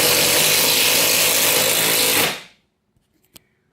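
Makita 10.8V CXT, Bosch and Milwaukee cordless impact drivers drive screws together in a loud, dense mechanical roar for about two seconds, then cut off abruptly, followed by a few faint clicks and taps.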